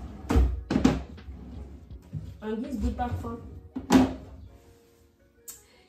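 Bedroom drawers are opened and closed with a few wooden knocks and thumps, two near the start and one later, while someone talks quietly in French.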